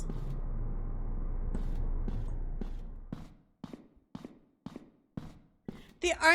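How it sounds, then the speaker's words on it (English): Wet, moist licking sounds close to the ear in the horror game My Dear Neighbor: a low rumble fades into a series of short, evenly spaced smacking clicks, ending with a burst of brighter noise. "making gross licking sounds right up near my ear."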